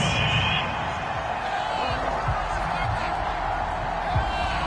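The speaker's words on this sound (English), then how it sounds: "Well, the crowd doesn't like that." A stadium crowd in a PS4 American football game reacts to a penalty flag with a steady, dense roar that runs the whole time beneath a commentator's voice.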